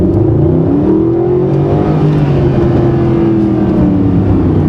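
A Mercedes-Benz SLS AMG engine revs loudly inside a tunnel, the pitch climbing in sweeps with heavy echoing resonance, close and continuous.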